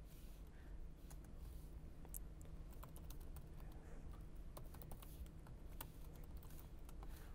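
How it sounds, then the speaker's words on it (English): Quiet, irregular keyboard typing with soft clicks in uneven bursts over a low background hum, no voices. "We can start typing up text."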